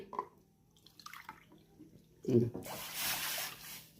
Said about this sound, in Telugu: అందులోని వాటర్ వేస్తున్నాను